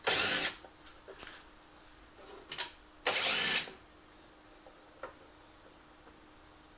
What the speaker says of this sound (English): it's important to remove the two 10mm bolts, so let's go ahead and do that now